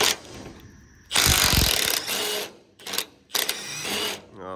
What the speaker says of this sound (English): we gotta knock these bolts off that are bolting this makeshift roof to the container here